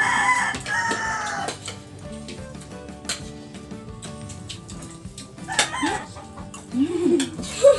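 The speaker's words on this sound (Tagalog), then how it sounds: "Ibang tanog ng manok kapag binahabol eh." A rooster crows nearby, followed by scattered clucking and squawks from chickens being chased, with a dog barking now and then in the background.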